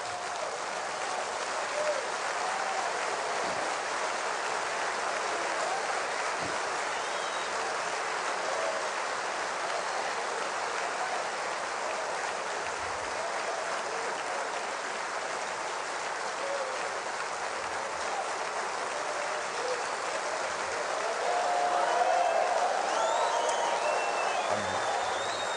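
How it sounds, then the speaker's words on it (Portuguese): A standing church congregation applauds in a large hall, the dense, even clapping continuing at a steady level and swelling slightly toward the end. "eu queria pedir que de pé nós aplaudíssemos a Deus"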